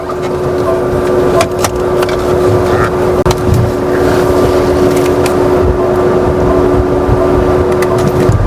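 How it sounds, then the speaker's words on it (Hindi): Toyota Innova Hycross ZX(O) cruising on a highway, heard from inside as a steady broadband road and wind roar with a faint constant hum and occasional light knocks, unbroken throughout. "तो भाई हम लेके आ गए इस गाड़ी को इस वक्त हाईवे पे, तो इसको चला के देख लेते हैं।"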